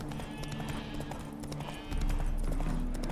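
Horse hooves clip-clop at a steady trot in The Witcher 3: Wild Hunt, with rhythmic thuds close by under ambient game music.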